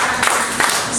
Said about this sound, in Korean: 다 집중해서 박수 3번 시작